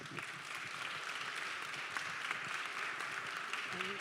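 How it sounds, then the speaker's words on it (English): A church congregation applauding during a worship service, a faint, steady roll of clapping heard from some distance, with a brief voice rising near the end. "Let's give them all a good round of applause."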